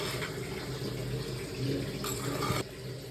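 Soaked tamarind water pours steadily into a simmering kollu kara kulambu, a soft continuous splashing trickle, faint and close, ending abruptly.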